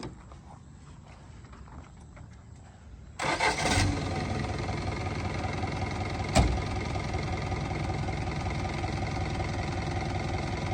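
A used car's engine cranks and catches after a few seconds of quiet background. It then settles into a steady, even idle, with one brief sharp knock partway through.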